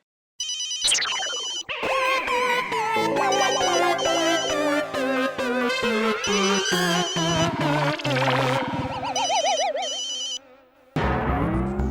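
A mobile phone rings again and again with repeated incoming calls, bright electronic ringtone melodies stepping through rising and falling notes, loud and close, stopping briefly before starting up once more.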